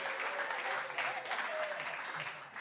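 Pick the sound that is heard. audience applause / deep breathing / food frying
audience applause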